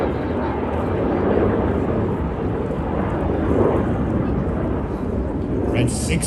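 Aerobatic display jets roar at a Tallinn air show, a loud continuous broadband rumble of jet engines that swells and holds steady throughout, with a higher hiss rising near the end.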